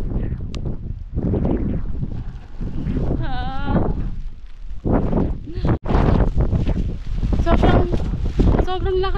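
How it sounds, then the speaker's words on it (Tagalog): Strong wind on Mt. Pulag buffets the microphone in loud gusty rumbles, while people talk and exclaim close by over it. "Sobrang lakas na ng hangin dito."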